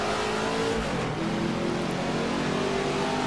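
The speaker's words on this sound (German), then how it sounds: "Wir haben den Sound vom Ford GT40." Ford GT40 engine in the Assetto Corsa racing game at Zandvoort, a steady loud mid-pitched drone held throughout without any speech.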